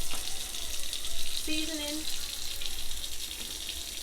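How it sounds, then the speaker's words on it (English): Hot water running from a kitchen tap into a sink while a person briefly speaks over the steady soft rush of flow. "I'm just waiting on my water to heat up over there in my sink"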